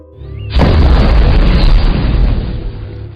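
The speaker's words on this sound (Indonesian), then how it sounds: "benda yang sebelumnya diletakkan di lapangan tiba-tiba meledak dengan kekuatan yang cukup besar" A film explosion of an object left on a school field: a sudden loud boom with a heavy low rumble that sustains and slowly fades over a few seconds, with no talk.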